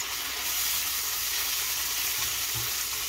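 Refried beans sizzle loudly in a pan while being stirred, a dense steady hiss and crackle close up with occasional scraping, lasting about three seconds.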